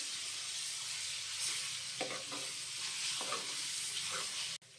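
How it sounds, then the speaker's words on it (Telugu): Ginger garlic paste fries in hot oil for chicken pickle, giving a steady close sizzle with a few soft stirring scrapes and no voices. "అల్లం వెల్లుల్లి పేస్ట్ని పచ్చివాసన పోయేంత వరకు వేయించుకోవాలి"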